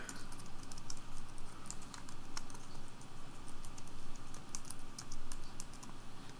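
Rapid, steady typing on a laptop keyboard with a funky feel, soft clicky keystrokes continuing without pause and a faint background hum.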